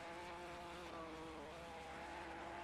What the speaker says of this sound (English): Ginetta engine absolutely screaming.